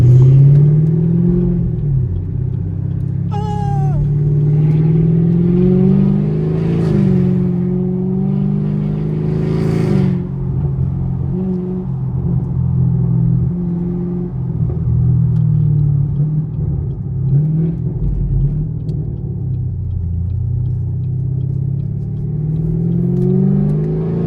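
Deep, throaty V8 exhaust burble from a catless 500 hp Chevrolet Camaro SS rumbling steadily up close, with a few revs swelling and settling over a continuous low idle.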